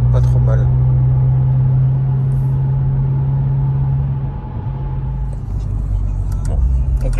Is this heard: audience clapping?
no